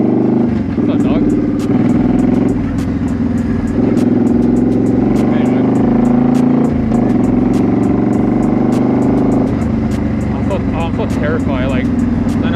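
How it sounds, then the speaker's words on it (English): A Suzuki motorcycle fitted with a loud aftermarket Cobra exhaust rumbles and revs while being ridden, the engine droning steadily with repeated throttle swells, and a rider talks over it. "I changed it to a Cobra /Sun exhaust, and it's so loud now."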